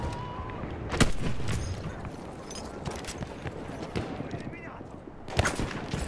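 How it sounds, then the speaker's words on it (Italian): Scattered gunshots in the video game Battlefield 1 crack in bursts, a few sharp reports standing out over a busy background of rumbling and clatter. "Ci sdraiamo un attimo perché ci sono troppi spari da dietro"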